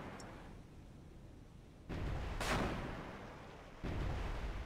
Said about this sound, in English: Cannon one is firing.